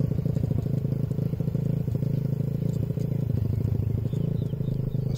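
A motorcycle engine rumbles steadily and close as a learner rider moves off, a continuous low throbbing drone with faint clatter, no talk over it.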